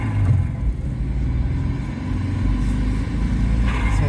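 A 1993 Subaru Legacy Turbo drives while its new brake pads are bedded in, giving a loud, close, low engine rumble and road noise from inside the car that swells and eases, with no talk.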